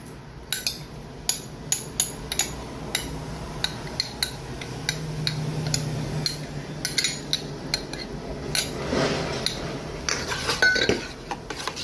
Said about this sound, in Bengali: তো এগুলো আমি এখন একটা পেয়ালাতে ঢেলে নিচ্ছি।